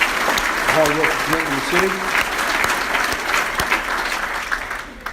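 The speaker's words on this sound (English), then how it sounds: "Let's give them a round of applause, too." An indoor audience at a city address claps steadily in a dense, sustained wash of applause that tapers off, while a speaker's voice briefly carries over it.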